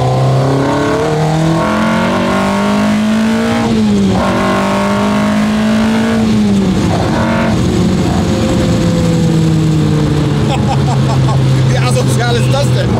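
A car engine's intake roars loudly as it revs and accelerates with no audible exhaust, pitch climbing and falling in surges, while someone talks over it.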